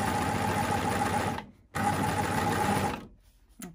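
A coverstitch sewing machine runs a test stitch with a knit binder on fabric, a loud steady mechanical whir in two bursts with a brief pause between.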